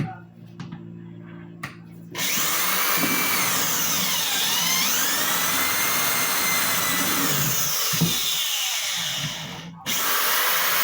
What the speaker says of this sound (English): we're gonna drill a couple more of these